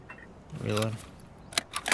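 Weapon reloading in the game Escape from Tarkov, a short run of metallic clicks and rattles ending in a couple of sharp snaps, close and fairly quiet, with a faint voice murmur underneath.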